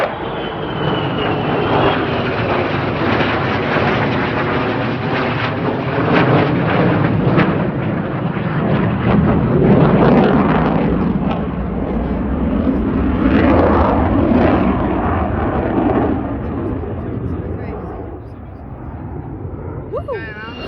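A military jet, an F-15 Eagle or F-35 Lightning, flying over RAF Lakenheath, producing a loud, crackling roar that builds, peaks and slowly fades over about twenty seconds, with people talking over it.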